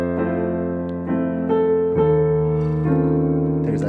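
Solo piano plays a song in a series of gentle, sustained jazz chords struck every second or so, each ringing and overlapping into the next, close and clear with no voices.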